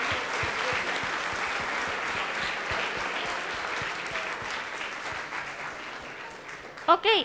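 An audience at a programming contest closing ceremony claps in a loud, sustained burst that fades slightly near the end, where a brief voice and a short tonal sound cut in.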